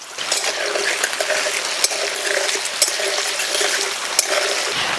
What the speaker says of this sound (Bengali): এই তেলেই আলু ভেজে নেব